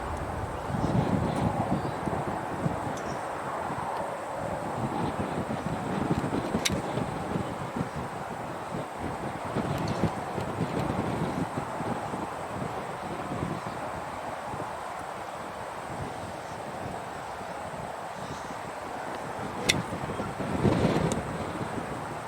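Wind blows steadily outdoors, buffeting the microphone with a continuous rough rumble and hiss that stays fairly even, with a couple of faint sharp ticks in the background.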